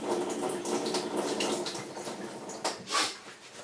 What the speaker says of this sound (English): Rinse my hands, and we will now rinse my eyes.